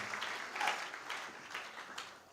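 A church congregation claps and applauds, a steady broadband patter of hands lasting a couple of seconds, moderately loud and roomy, with no voices over it.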